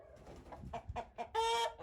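Young Kaisamba chickens give a few short, soft clucks close by, ending in a slightly louder, drawn-out call.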